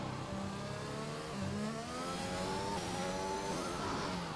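F1 car engine in the video game F1 2021 accelerating through the gears, a continuous whine that climbs in pitch with each upshift, steady and fairly loud.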